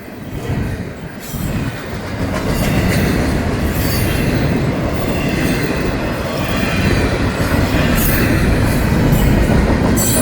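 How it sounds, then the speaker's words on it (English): A long Florida East Coast Railway freight train rolls past close by at night, a loud steady rumble of wheels with rhythmic clacking and occasional metallic squeal. "I get big fat trains, big long trains to film"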